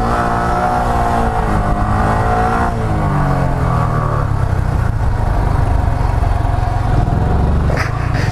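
A Honda Grom motorcycle engine holds high revs and then winds down as the rider slows, a loud, steady close-up drone with falling pitch and no talking.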